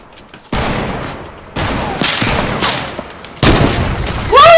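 Gunfire in a Fortnite sniper shootout mode: three loud, booming shots with sharp onsets and rumbling decays, followed by a burst of game sound effects.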